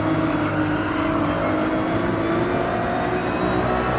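An opponent's race car engine in Gran Turismo 7 drones steadily alongside on the left, a continuous whirring roar at moderate volume, heard alone.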